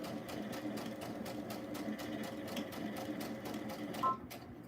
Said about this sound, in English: Let me go one more stitch.